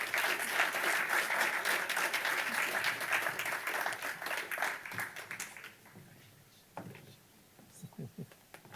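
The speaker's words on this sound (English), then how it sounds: "So please a big applause for our award winners." Audience applause for award winners at an awards evening, full and steady at first, then thinning into scattered claps and quiet murmuring as it dies away.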